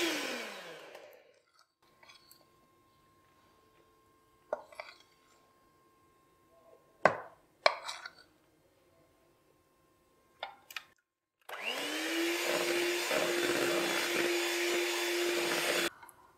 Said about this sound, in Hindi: ज़्यादा बीट नहीं करेंगे, लो स्पीड पे आप इसे बीट करें